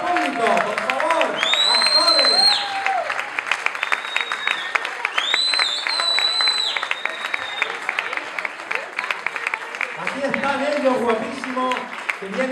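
Audience applauding actors and technicians at an end-of-year short-film screening for a film acting course, sustained clapping throughout with an announcer talking and shouting over it, plus crowd voices.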